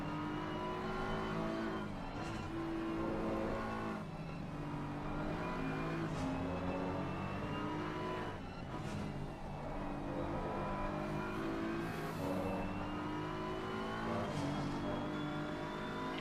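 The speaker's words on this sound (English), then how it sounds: "Je fakt, že ty Ferrari jako nás předjíždějí jak nic." Ferrari race cars overtake on the Nordschleife during a 24-hour race in a racing video game: a continuous, close engine drone with whining, rising pitch sweeps as the cars surge past, steady and loud throughout.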